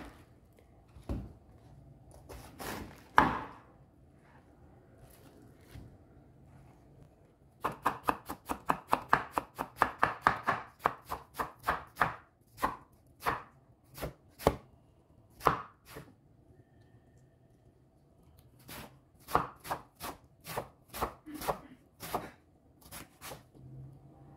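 A knife slices cabbage extra thin on a board: a few cuts, a pause, then long bursts of rapid, fairly faint strokes with gaps between runs, no voices.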